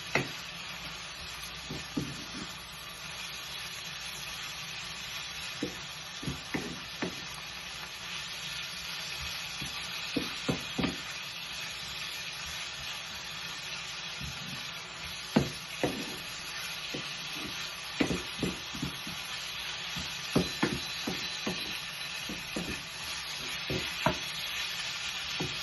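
Ground beef mixture for beef cigars sizzles and fries steadily in a pan, with scattered stirring clicks and scrapes over the constant hiss.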